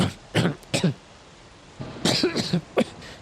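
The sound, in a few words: voice imitating a character coughing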